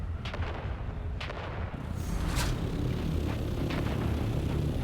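Grenade blasts and heavy gunfire in the video game Dune Awakening, a dense, loud rumble of combat with sharp bursts and booming impacts filling the whole stretch, no voices heard.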